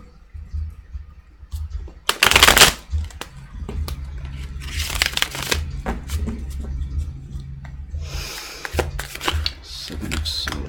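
Tarot cards are shuffled close up during a reading. Several short, loud riffling bursts come in quick succession, with quieter card handling and rustling between them.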